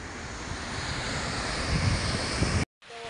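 Heavy rain pours near Phophsandi waterfall, making a steady, loud, hissing roar with wind buffeting the microphone, before it cuts out briefly near the end.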